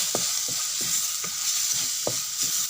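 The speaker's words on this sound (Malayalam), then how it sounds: "ഈ പൊടികൾ നന്നായിട്ട് ഇളക്കി കൊടുത്തിട്ട്" Spice powders, including chilli powder, stirred as they fry in a pan for a fish curry, with a steady loud sizzle and regular spoon scrapes about twice a second, close up with no voices.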